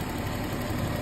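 A Jaguar XJ40 with a 3.6 engine, long unused but still solid, idles with a steady, low, even hum that holds at a constant level for the whole moment, with no voices over it.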